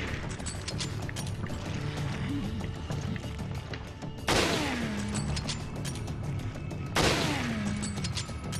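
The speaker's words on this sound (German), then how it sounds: "Schießen wir halt in die Schultern statt in den Kopf" Two heavy gunshots ring out a few seconds apart in Resident Evil Revelations HD Raid Mode, each with a booming decay, over a busy bed of in-game noise.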